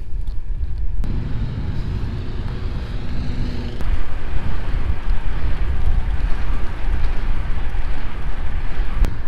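Strong wind over flat country while bikepacking in Belgium and the Netherlands buffets the microphone in a continuous low roar, growing louder and rougher after a few seconds, with no voices.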